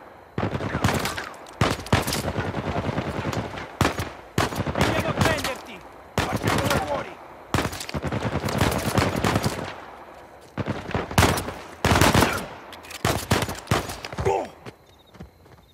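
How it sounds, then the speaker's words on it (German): Gunfire aimed at the player in Uncharted 4 comes in loud, repeated bursts of automatic shots with short gaps between volleys, close and harsh, with a few footstep-like sounds between. "Die schießen auf mich!"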